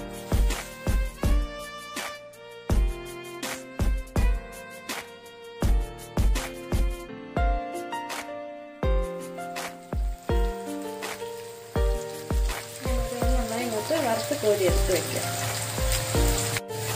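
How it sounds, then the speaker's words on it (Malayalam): Sliced onions deep-fry in hot oil for Kerala-style fish biryani, a sizzling crackle that sits under prominent background music and grows louder and denser toward the end. "അത് നമുക്കൊന്ന് വറുത്ത് കോരിയെടുക്കാം."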